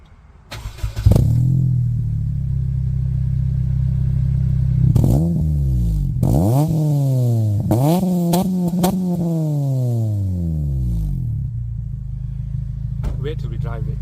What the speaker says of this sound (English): We also got a custom exhaust, which, let me turn the car on so you can listen to that.